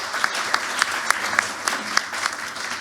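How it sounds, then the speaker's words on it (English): Brief audience applause at a launch presentation and panel event, a steady wash of clapping with a few sharper individual claps standing out at a regular pace. "Round of applause for Tom."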